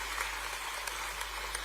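An audience applauds at a sports awards ceremony in Bhopal, a dense, steady patter of many hands clapping through a short stretch, fairly distant and even in level.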